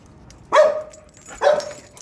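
A dog named Brownie gives two sharp, close barks about a second apart, each short and loud, against a quiet background.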